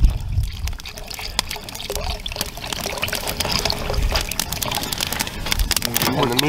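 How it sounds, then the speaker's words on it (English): Beef broth poured into a venison stew pot in a hot tent, a continuous splashing trickle of liquid with faint voices in the background. "Now we put the broth in."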